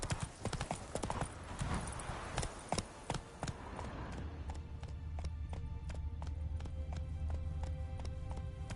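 Geralt's horse Roach galloping in The Witcher 3, with fast continuous hoofbeats up close that settle into a steadier, more regular clip-clop, carrying on throughout without any voices.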